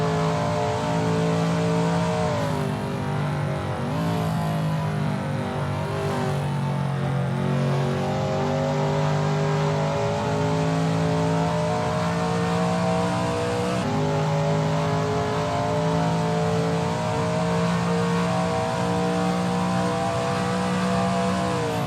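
A Shelby Mustang GT350R racing at Willow Springs in a racing game, its engine droning steadily and loud throughout, with the pitch rising and dropping through gear changes and a long climbing pull.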